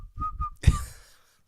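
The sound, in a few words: person whistling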